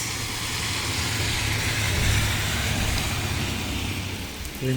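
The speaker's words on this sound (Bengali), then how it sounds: "ঝিম বৃষ্টি" Light drizzling rain gives a steady, even wash of soft noise that fills the whole stretch, with a faint low rumble underneath and no voices.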